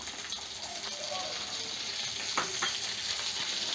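Peeled shallots and garlic cloves fry in a pan for a dry fish curry, giving a steady, moderately quiet sizzle with occasional stirring scrapes and crackles.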